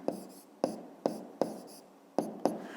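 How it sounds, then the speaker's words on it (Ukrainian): Pen strokes on paper while writing a fifth-grade math answer, six quick, close scratchy taps and scrawls in an uneven rhythm. "Пишемо тоді відповідь."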